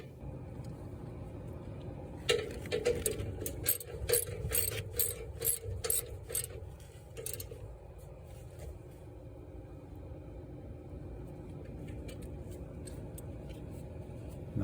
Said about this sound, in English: go ahead and lock in your adjustment by retightening these two bolts